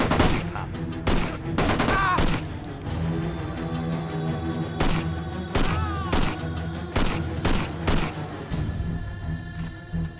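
Video game gunfire from Tunnel Rats, sharp repeated gunshots and short bursts cracking out at irregular intervals over a low droning game soundtrack, loud and close.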